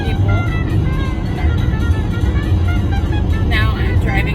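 Steady low car engine and road rumble from inside a moving vehicle on the way to band practice, continuous and fairly loud, with a voice talking over it.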